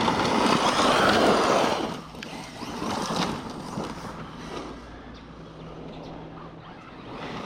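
An off-road vehicle on a campground trail rumbles under throttle, its engine noise and crunching terrain rising loud at first, then easing to a softer, steady drone with wind and rattling.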